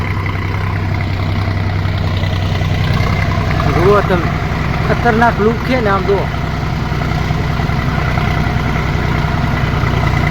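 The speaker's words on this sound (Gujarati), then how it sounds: "ત્રણ ટ્રેક્ટર છે એક પાણીનો ટેન્કર છે અને એક આગળ દારૂ ને એક અમારું આ ટ્રેક્ટર" A steady low tractor engine idles throughout, a continuous rumbling drone with someone talking over it in the middle.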